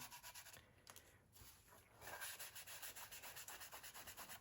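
A painted 1/48 scale B-25B model being rubbed with a fine polishing cloth, giving soft, rhythmic back-and-forth scuffing strokes that are close and quiet, quickening into a steady pulse toward the end.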